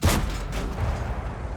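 A booming tank cannon blast in a video game hits at once and rolls into a dense, rumbling roar that slowly fades.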